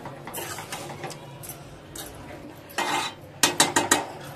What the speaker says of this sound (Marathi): इथे बघा मी छान असे मिक्स करून घेतले आपल्या मसाल्याच्या ग्रेव्हीमध्ये.